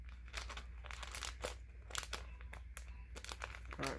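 Paper packaging for a set of stage pieces being opened by hand, giving close, continuous crinkling and crunching with a few short tearing bursts throughout.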